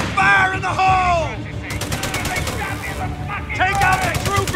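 Rapid gunfire and machine-gun bursts in the Italian campaign of Company of Heroes 3, loud and dense, with shouted in-game voices over the shooting.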